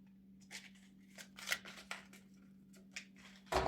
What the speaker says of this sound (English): sometimes it's hard to shuffle this big pack of cards